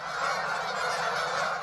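A flock of Canada geese honks continuously near lakes and a river in fall, their overlapping calls forming a dense, steady clamour with no talk.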